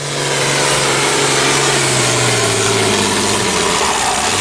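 A loud, close diesel engine of a 1066 farm tractor drones continuously under load, its low rumble steady with a slowly shifting pitch, as if running hard.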